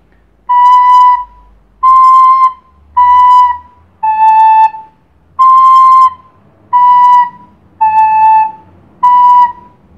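Melody of eight sustained, evenly spaced notes (do, si, la, si pattern) played clearly on a whistle-like instrument for a primary school music lesson, each note ringing alone with short pauses between.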